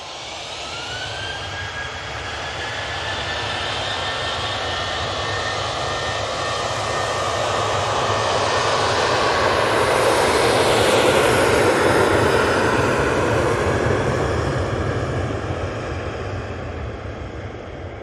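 TUI airliner flying overhead near Manchester Airport, a loud sustained jet roar that swells as it passes and slowly fades, with a rising whine in the engine tone.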